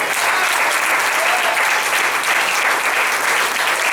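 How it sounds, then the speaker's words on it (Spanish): A church congregation applauds loudly and steadily, the dense clapping filling the space without a break. "Si usted quiere ese aplauso, délo correctamente"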